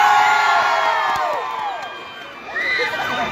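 A large crowd at a political rally in Pasig shouts and cheers loudly in swelling waves, with high whoops rising above the roar, which dips briefly and then surges again.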